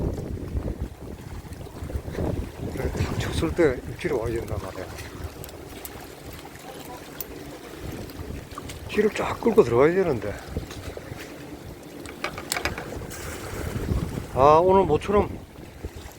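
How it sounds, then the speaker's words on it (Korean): Strong wind gusts buffet the microphone at a seaside breakwater during float fishing for mackerel, with heavy swells, roaring in bursts under steady talk from a man. "바람 강풍이 불어가지고"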